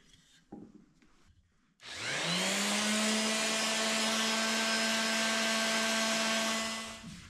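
A palm sander with 220 grit starts up after a few quiet handling knocks and runs on a wooden spurtle, a steady loud whir with a rough rubbing hiss that stops near the end.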